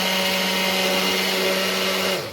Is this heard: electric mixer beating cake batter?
yes